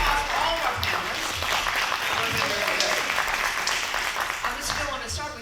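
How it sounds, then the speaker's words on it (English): A roundtable audience applauds a panel of leaders with dense, continuous clapping. The sound is loud and even, filling the room for several seconds without a break. "So, Mr. Hill, round of applause for all of our panelists."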